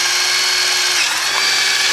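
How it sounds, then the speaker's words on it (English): Power drill spinning a 5/16 drill bit through a workpiece for a chicken plucker build, a continuous high whine that holds steady with a slight pitch shift midway, loud and close with no talk. "we're going to drill 2 holes side by side, really close together with these 5/16 drill bit"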